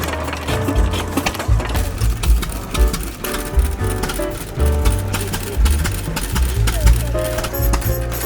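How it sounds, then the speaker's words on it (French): A small old Brouhaud stationary engine of 3 horsepower, made in Vierzon, runs steadily outdoors in a field with a rapid mechanical chatter and low thumping throughout, while people talk over it. "c'est un moteur Brouhaud fabriqué à Vierzon. Puissance est un 3 chevaux"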